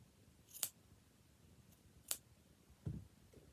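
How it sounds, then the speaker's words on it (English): Scissors snip through the corner of fabric bias tape on a shirt hem, two quiet, sharp cuts a second and a half apart, followed by a soft handling sound. "Now I'm just snipping the corner off that so that it's just not too bulky"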